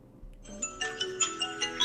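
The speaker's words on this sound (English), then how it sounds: "There's only one good part of that ringtone." A phone ringtone plays a short melodic sequence of bright beeping tones, a rising run followed by evenly spaced chiming notes repeating at a steady pulse, fairly clear and alone.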